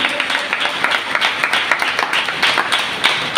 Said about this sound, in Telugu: చప్పట్లు కొట్టు, అర్థమైతే చప్పట్లు కొట్టు.